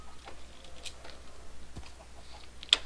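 Faint, sparse chicken clucks in the video game Minecraft scattered over a quiet background, ending in a sharp brief click.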